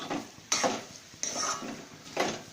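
A spoon stirs thick coconut barfi mixture in a pan over a low flame, giving three distinct scraping strokes with soft rustle between them, close and moderately quiet, with no voices.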